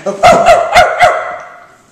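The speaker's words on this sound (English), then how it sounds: "Terrible bark." A dog barks four times in quick, even succession, loud and close, with the last bark trailing off into a short fade.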